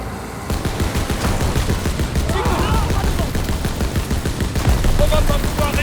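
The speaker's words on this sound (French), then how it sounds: "Je me mets à la mitrailleuse!" Rapid, continuous machine gun fire in the Call of Duty WWII video game, loud and close, with dense bursts of shots over a rumbling vehicle and faint voices.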